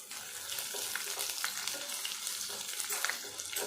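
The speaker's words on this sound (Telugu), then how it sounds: "ఆనియన్స్ అనేది వేగిపోయినాయి ఇప్పుడు మనం దీంట్లోకి కొంచెం అల్లం వెల్లుల్లి కూడా వేసి" Onions fried with ginger and garlic in a pan, giving a bright continuous sizzle with light, irregular stirring clicks, close but fairly quiet, with no talking.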